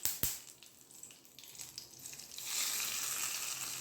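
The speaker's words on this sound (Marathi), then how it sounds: "आता हा तडका याच्यावर टाकूया." A hot tadka of mustard seeds, cumin and curry leaves is poured over batter, with a sharp knock first, then a crackle that swells into a steady, bright sizzle.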